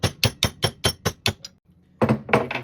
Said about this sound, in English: I'm just going to tap it in with a hammer with this socket